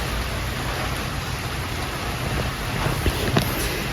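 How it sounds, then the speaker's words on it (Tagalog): Heavy rain pours down steadily, a dense, loud hiss of drops drumming on surfaces with no break, and a few sharper splashes near the end. "Malakas ng ulan eh."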